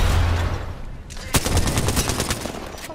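Rapid automatic gunfire from an Apex Legends match, dense repeated shots with a sharp burst near the middle, loud and close, with a voice talking faintly underneath.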